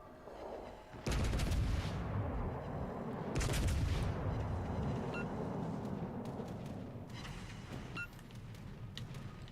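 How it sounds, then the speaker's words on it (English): The battleship Kremlin fires its guns in World of Warships: Legends, with two heavy booming salvos a couple of seconds apart, each leaving a long rumbling tail, followed by fainter distant reports. "Uh oh, the Kremlin's now shooting at me."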